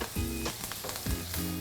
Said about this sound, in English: keep moving the steak around and keep basting it with butter